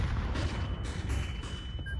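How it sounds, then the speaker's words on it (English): A grenade blast during a Counter-Strike match: a loud, sustained rumbling burst of broadband noise with a heavy low end that rolls on steadily for a couple of seconds. "Grenade out."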